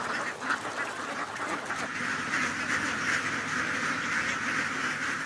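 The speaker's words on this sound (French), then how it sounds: "Ces armées de canards nettoyeurs sont devenues la norme dans les campagnes du royaume." A flock of ducks used to clear a Thai rice paddy quacks continuously in a dense, steady chorus of overlapping calls, loud and close, with no voices.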